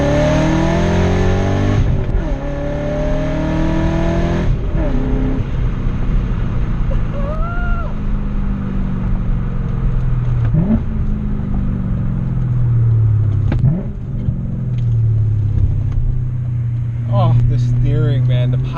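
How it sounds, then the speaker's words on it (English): BMW M4 exhaust note revving through a downshift and pulling hard under acceleration, loud and close from inside the cabin, with engine pitch rising and dropping in surges while someone talks over it. "We're gonna have to get a nice downshift. It's like making music with the exhaust note."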